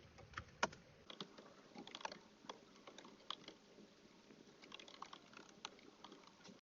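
Rapid clicking of keys on a computer keyboard, steady and close, with irregular bursts of keystrokes and no voices.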